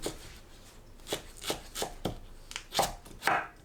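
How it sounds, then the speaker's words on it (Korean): A knife slices a halved, trimmed cucumber on the bias for a dressed wild chive salad, producing a run of crisp, evenly spaced chops on a cutting board, close and clear with no talk. "어슷 썰어주세요"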